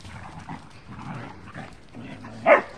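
Dogs outdoors: faint, scattered yips are followed by a single loud, sharp bark near the end.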